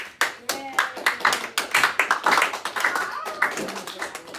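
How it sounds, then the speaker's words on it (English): A small classroom group of kids claps for a student chosen to lead a bingo game, distinct close individual claps in an uneven rhythm, with voices chattering under and between them. "Let's clap it up for him"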